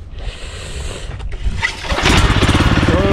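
A cultivator with a rotary tiller, its small engine running steadily, then revving louder with a throbbing, sputtering rhythm close by.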